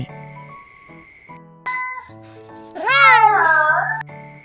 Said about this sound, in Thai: แมวตัวนั้นร้องขึ้น